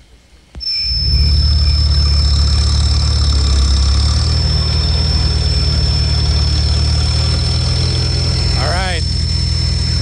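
A tractor engine idles steadily and loudly up close with a deep, constant rumble, starting abruptly after a moment of quiet.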